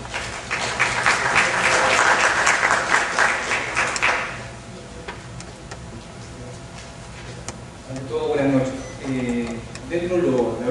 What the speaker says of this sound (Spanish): Por favor, un fuerte aplauso para el doctor Marco Antonio Martínez Zamora.